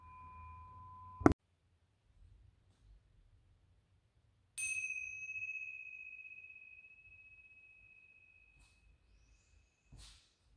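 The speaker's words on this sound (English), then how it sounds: "Tibetan bells." Tibetan bells struck in a quiet room, with a sharp metallic strike followed by a second ring whose clear high tone sustains and slowly fades, then a faint later touch.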